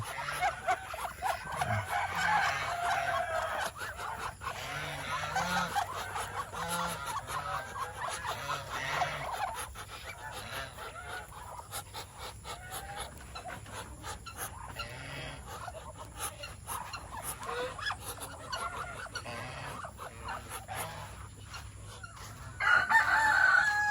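A flock of ducks and geese calling over and over outdoors, overlapping honks and squawks forming a busy, continuous clamor.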